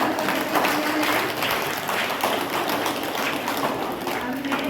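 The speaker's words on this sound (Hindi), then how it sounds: "आप अभी ऊपर करके तालियां बजाएंगे।" Students at an orientation event clap together in a steady, dense burst of applause with some scattered voices beneath.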